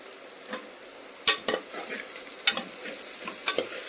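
Mutton curry with onions and salt being stirred in a pan, a soft background sizzle broken by several sharp scraping clatters of a spoon against the pan at irregular intervals.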